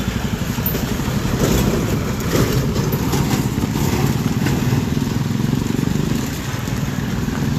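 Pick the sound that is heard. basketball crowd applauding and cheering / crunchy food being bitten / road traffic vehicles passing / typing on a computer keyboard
road traffic vehicles passing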